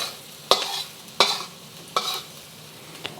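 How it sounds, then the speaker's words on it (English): Green beans with shrimp stir-fried in a pan for a Malaysian spicy dish, with four sharp stirring scrapes at even intervals over a steady close sizzle. "You just stir fry this for about a minute."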